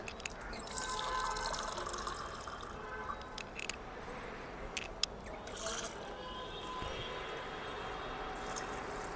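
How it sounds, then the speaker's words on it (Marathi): Faint trickling and dripping of water poured onto sugar for boondi laddu syrup, quiet and intermittent, with a few small clinks. "साखर बुडेल एवढंच पाणी घालायचं आपल्याला"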